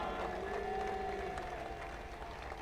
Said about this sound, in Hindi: एक बार आप सब आदरणीय अध्यक्ष जी के लिए अपने स्थान पर खड़े होकर तालियों के गड़गड़ाहट से